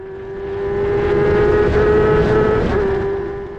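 An F3 race car engine at Donington Park, holding a loud, steady high-pitched whine that swells past nearby and wavers briefly around an upshift.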